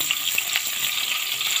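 Onions sizzle steadily in a hot pan during Bicol-style home cooking, a dense, continuous crackling hiss heard close up without any talking.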